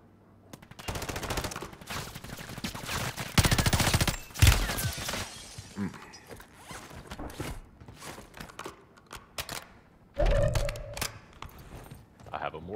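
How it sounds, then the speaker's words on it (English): Mortar strike explosions land in the Call of Duty Warzone video game, several loud booming blasts and rumbling impacts in quick succession, then another burst near the end, while players talk over the game audio. "mortar strike."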